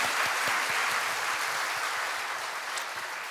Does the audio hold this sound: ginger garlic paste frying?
no